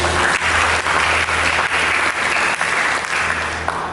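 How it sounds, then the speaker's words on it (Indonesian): Congregation applause during a church sermon: many hands clapping loudly and continuously, a dense, even roar that holds steady for the whole stretch with faint low hum beneath. "Mari kita berikan tepuk tangan bagi"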